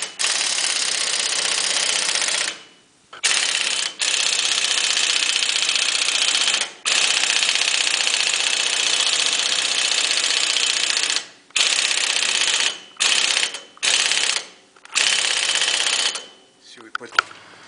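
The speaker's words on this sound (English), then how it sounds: "We give the Mickey Mouse impact wrench here." Air impact wrench driving a bushing press tool on a Ford F-250 I-beam pivot, heard as long sustained rattling bursts broken by short pauses, loud and close, with talk between bursts.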